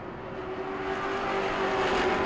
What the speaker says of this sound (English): Up on the outside, Ryan Robbins just about even with Tardif, your race leader.